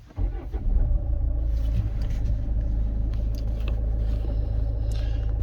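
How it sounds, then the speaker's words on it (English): A Land Rover Freelander 2 with an automatic gearbox starts up and then idles smoothly, giving a steady, deep engine rumble heard from close range. "the car is switched on and it's idling very smoothly"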